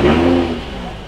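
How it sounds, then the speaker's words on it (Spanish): A supercar's engine rumbles and revs loudly up close at a Goodwood event, a brief throaty burst that eases into a lower steady growl. "¿Queréis que arranquemos el coche?"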